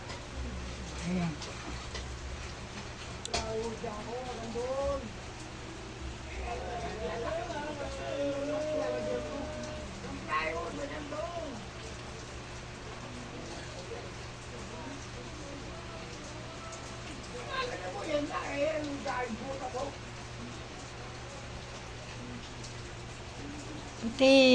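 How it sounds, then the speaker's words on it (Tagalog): Steady rain falls at night as a constant, soft hiss with no breaks. Quiet talking and a few faint cat-like calls sit over it now and then. "Yan, umuulan na."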